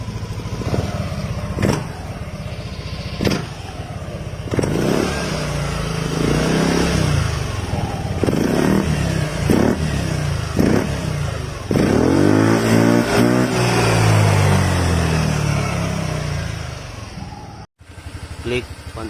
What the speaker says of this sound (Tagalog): Aerox 155 sound test.